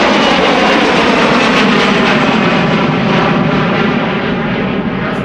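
A jet departing Amsterdam Schiphol passes close by with a loud, sustained engine roar, strong at first and easing slightly as it moves away, with no voices.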